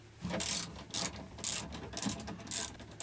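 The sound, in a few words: unbolting the van's driver's seat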